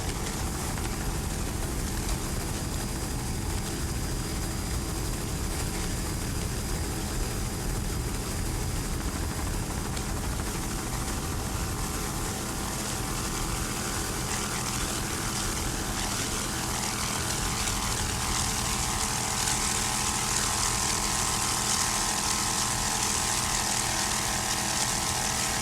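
Offshore racing powerboat, a 26-foot Velocity with a single 470 horsepower Mercury engine, racing at the Lake Winnipesaukee Offshore Grand Prix; a continuous loud engine roar with wind and spray rising toward the end.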